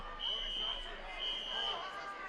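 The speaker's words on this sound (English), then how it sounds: "pranked us with the nice fire alarm" A fire alarm at a wrestling event venue sounds in two sustained electronic beeps, each about half a second long, over a noisy crowd.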